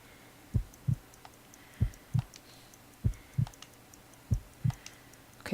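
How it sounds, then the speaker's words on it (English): Faint paired heartbeat thumps repeat in a slow, steady lub-dub rhythm, four double beats in a quiet backdrop, heard while a pulse is measured in a Sherlock Holmes: Crimes & Punishments video game. "I need to concentrate and count the heartbeats."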